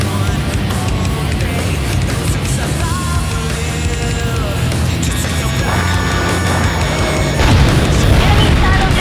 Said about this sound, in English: Enemy silo destroyed.